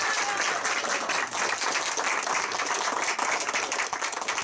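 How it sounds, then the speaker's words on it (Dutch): Loud, sustained applause from a sizable audience, dense clapping holding steady for several seconds without pause. "Dus ik denk dat voor Hans en Paul zeker een applaus op de plaats is"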